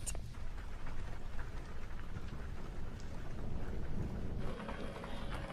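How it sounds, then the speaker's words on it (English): Steady rain falls outside a van parked in a slot canyon, a dense, even hiss with a low rumble underneath that could be thunder, continuous and fairly close. "The rain is picking up for sure."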